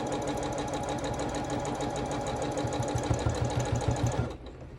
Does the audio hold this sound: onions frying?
no